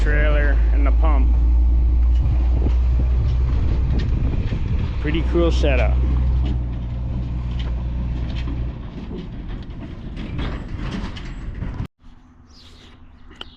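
A farm truck hauling a hooked-up trailer and manure pump gives a steady low engine rumble with some wind noise, running under close conversation before cutting off near the end.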